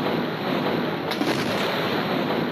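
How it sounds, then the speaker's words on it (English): Massive explosion at the port of Tianjin, China, heard as a dense, roaring broadband rumble that holds loud and steady, with a sharper crackling burst partway through and no voices. "A much larger explosion and a terrifying ball of flame."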